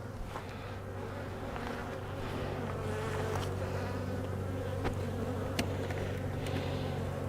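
Honey bees swarm around an opened hive that is infested with small hive beetle larvae, their close, dense buzzing holding steady with a few sharp clicks from the hive being worked.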